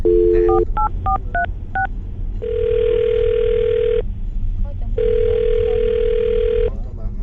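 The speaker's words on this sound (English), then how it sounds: "I'm going to dial her phone number right now" A quick run of telephone keypad beeps dials a number, followed by two long, steady ringing tones on the line.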